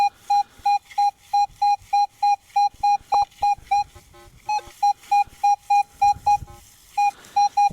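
A metal detector sounds over a buried target in the Australian bush, giving a steady, stable repeating beep tone in even pulses with a short gap midway, alone with faint handling noise.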